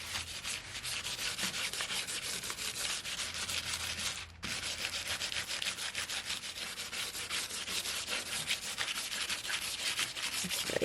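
Transfer foil is scrubbed hard over foil adhesive in a steady, loud, continuous rasping rub that breaks briefly about halfway through, with no voices.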